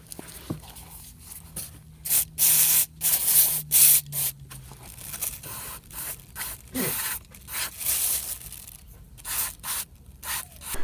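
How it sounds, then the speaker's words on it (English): Cleaner is sprayed onto parts of a vintage AEG BH25 rotary hammer during restoration: a series of short, close hissing bursts of varying length, separated by brief pauses, with no talking. "we'll just hit it with some of this cleaner"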